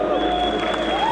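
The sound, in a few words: audience applause at costume contest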